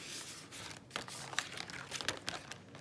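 Paper banknotes crinkle and rustle as they are handled and slipped into paper envelopes, a close, soft run of crumpling and tearing-like crackles with a few sharper peaks, no voice present.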